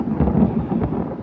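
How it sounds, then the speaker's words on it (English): Thunder from an approaching storm rolls in as a loud, close low rumble that swells and surges over about a second, with rain noise underneath and no voices. "The storm's coming"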